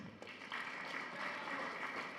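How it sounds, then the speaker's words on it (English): Students applauding at a student forum session, a steady soft wash of clapping heard from some distance, faint and continuous throughout. "Clap for yourselves."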